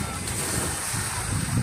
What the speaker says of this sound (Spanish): Estamos en la playa de Pontal, aquí en el mar.